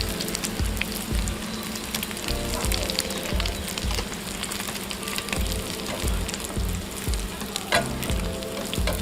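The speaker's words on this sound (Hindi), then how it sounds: "जनाब, टिक्कियाँ हमारी फ्राई हो चुकी हैं" Chicken shami kabab patties fry in a pan with a loud, steady oil sizzle and crackle, punctuated by occasional spatula scrapes and stirring, close up with no talking.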